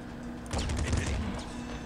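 Rapid bursts of gunfire from the video game Nuclear Throne, a dense volley starting about halfway through, loud and continuous to the end with a faint background hum.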